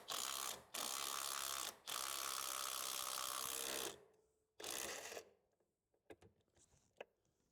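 A bolt on a car's coilover is tightened with a power tool, giving loud, close buzzing whirrs in several bursts separated by short gaps, followed by a few scattered metallic clicks and clanks.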